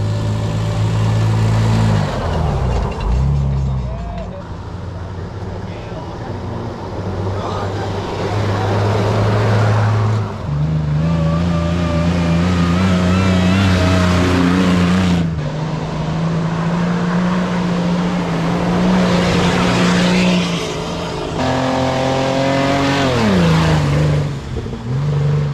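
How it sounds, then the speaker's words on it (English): Offroad 4x4 trucks, Toyota, Nissan and Suzuki among them, tearing around a muddy competition lap, engines revving hard and rising and falling in pitch as they accelerate close by, loud throughout with no talk. "Here's a bit of footage of some of the other trucks on their lap."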